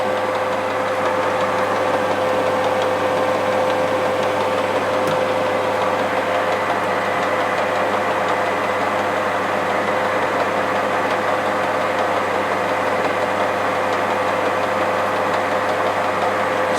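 Steady mechanical hum of a lathe screw-cutting a thread on an Ariel motorcycle crankshaft, a constant motor drone with a faint tonal whine, moderately loud and unbroken, with no talking.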